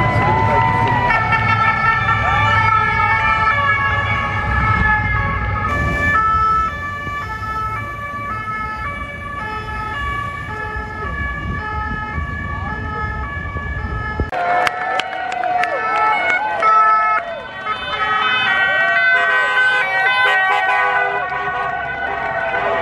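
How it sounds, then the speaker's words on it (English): Loud wailing police sirens in Paris, rising and falling continuously over traffic noise, shifting pitch partway through as another siren passes. "the police, they love the sirens"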